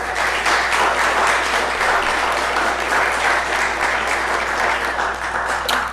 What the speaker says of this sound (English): So I would like Brandy and Phil to get a round of applause.